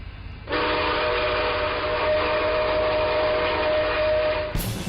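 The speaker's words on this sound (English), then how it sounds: "is that a Santa Fe whistle?" A Santa Fe steam locomotive whistle blows one long, steady, loud tone for several seconds before cutting off abruptly.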